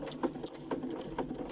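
A home sewing machine stitches fabric for embellishment clusters, running in short repeated bursts of rapid mechanical needle clatter, close and fairly quiet, with no talk over it.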